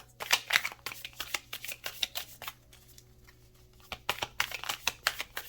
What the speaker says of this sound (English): I'm just going to shuffle first.